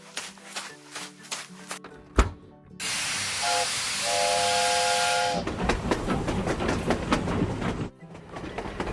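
A toy steam locomotive lets out a long, loud hiss of steam with a steady whistle tone over it, following clicks and a sharp knock, then rhythmic chugging and clatter continue.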